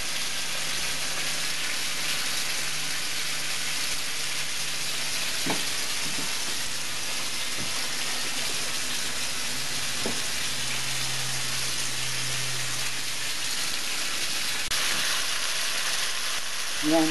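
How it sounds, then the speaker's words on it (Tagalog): Pork liempo being sautéed in a pan for pinakbet, a steady close sizzle of frying that runs throughout, with a few faint clinks of a utensil against the pan. "Igigisa muna natin dyan hanggang maluto siya"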